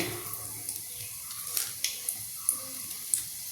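Whole spices crackling in hot oil in a pan for biryani: a soft steady sizzle with scattered sharp pops and spits, close and fairly quiet, with no talk.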